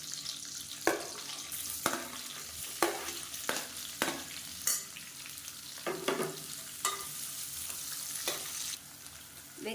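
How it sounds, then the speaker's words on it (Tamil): Sliced onion with mint and curry leaves frying in a pan for a mushroom kuruma, a steady close sizzle broken by repeated scraping stirs of a spoon roughly every second, with no talk. "வெங்காயம் நல்லா வதங்கிருச்சு."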